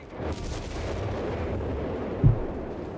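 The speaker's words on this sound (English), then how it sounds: "We got Lyco though with the Bishop on the way there. Some self-propelled artillery to further decimate the German lines." Bishop self-propelled artillery firing in Company of Heroes 3, heard as a steady low rumble of distant gunfire with one heavier thump near the end, amid battlefield noise.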